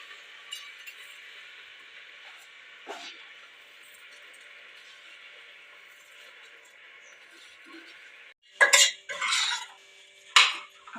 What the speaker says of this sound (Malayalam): അപ്പോൾ നമ്മൾ ഇത് അരിയൊക്കെ ഇട്ടിട്ടൊന്ന് നന്നായിട്ട് ഇളക്കി കേട്ടോ.